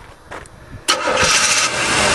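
An old Cheviac car engine is cranked by the starter for a moment, then catches and roars to life, settling into a loud, close, steady run; no voices are heard.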